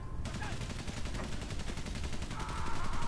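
Rapid gunfire in the WWI video game Valiant Hearts, a dense continuous burst of shots with game sounds mixed in, fairly loud throughout.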